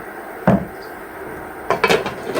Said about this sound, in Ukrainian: Прикриваємо кришкою.